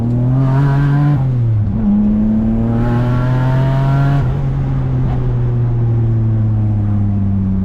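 A Hyundai with added horsepower accelerates hard on a road at night. The loud, close engine climbs steeply in pitch, drops sharply at each gear change and then climbs again through several shifts.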